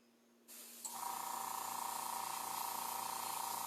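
A spray can hisses in one long continuous burst, starting abruptly and holding steady, close to the microphone, while painting a kneecap.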